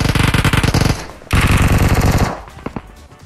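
Sustained bursts from an M249 machine gun in a tactical shooter game, a loud rapid rattle that runs for about a second, pauses briefly, then resumes before trailing off into a few scattered shots.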